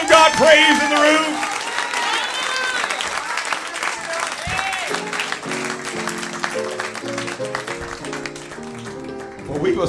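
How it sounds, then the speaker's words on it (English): A church congregation claps along at a Baptist anniversary concert, steady applause mixed with singing and voices filling the room throughout. "clap your hands and give God praise in the room."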